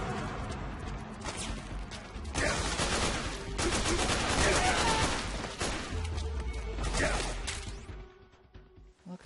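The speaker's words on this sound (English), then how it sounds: "I heard gunfire" Bursts of rapid gunfire and explosive crashes in the video game Metal Gear Solid 4: Guns of the Patriots, loud and sustained for several seconds, then fading toward the end; a voice speaks briefly underneath.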